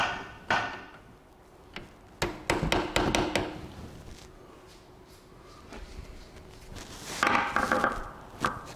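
A chisel or screwdriver hammered against a Kia Sportage brake caliper, sharp metallic strikes arriving in irregular bursts over a steady background hum, close and fairly loud.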